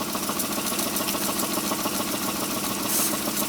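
A scarce Bing 6101 duplex toy steam engine, fired by a gasoline or alcohol burner under a non-original boiler, runs steadily with a fast, even mechanical chuffing and rattle, heard alone at close range.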